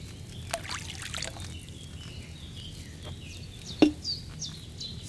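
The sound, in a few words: wine poured into a cauldron in Kingdom Come Deliverance 2 video game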